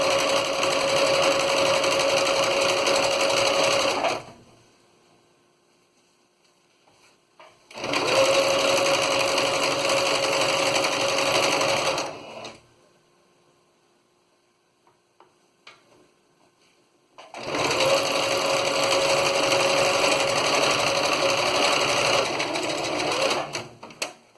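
A sewing machine stitches a cushion cover in three long, steady runs of loud mechanical whirring, separated by quiet pauses where the fabric is repositioned.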